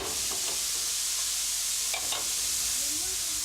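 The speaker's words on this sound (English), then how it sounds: "Olive oil to fry the chopped vegetables." Chopped vegetables frying in olive oil, a steady, loud sizzle and hiss that fills the whole stretch, with a few soft stirring scrapes and no talk.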